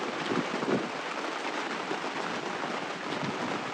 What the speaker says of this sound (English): I don't think we have seen this much rain since the Azores.